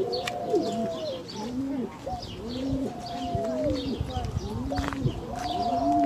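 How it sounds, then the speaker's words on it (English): Doves on a dairy farm in San Elizario, Texas, coo again and again in overlapping soft phrases, several birds close by, over steady outdoor farm noise. "These doves are so pretty."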